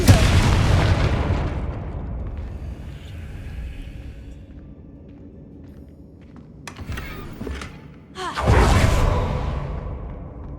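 A Confringo fire spell explodes in the video game Hogwarts Legacy: a loud booming blast opens, a low rumble and faint crackle follow, then a second heavy burst hits near the end.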